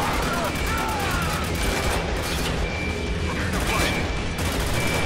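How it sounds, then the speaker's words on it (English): Dense, continuous gunfire and bursts of shooting in the video game Spec Ops The Line, played co-op, forming a steady loud barrage with scattered booms and voices talking over it. "Hey, stop shooting me."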